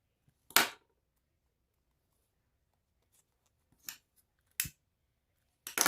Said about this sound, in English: Now what we do with this excess is we trim this off